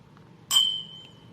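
Glasses clink once in a bourbon toast at a Maker's Mark barrel pick during the Kentucky Bourbon Festival, a single bright close chime with a ringing tone that fades over quiet surroundings.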